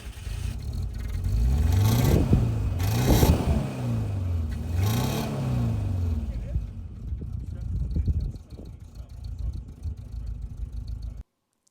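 A 1970s Citroen GS on a rally field, heard from outside: the engine revs up and down in several rising and falling sweeps, fairly close, then settles toward idle before cutting off, with some voices nearby.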